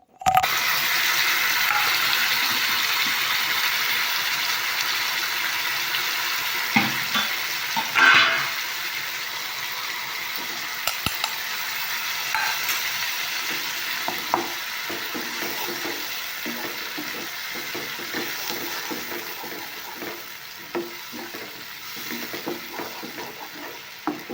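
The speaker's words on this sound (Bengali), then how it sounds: "মশলাটা আমি একটু ভালো করে কষিয়ে নিয়েছি" Masala spices fry and sizzle in a pan over browned onions while being stirred, a steady crackling hiss with scattered scraping knocks throughout.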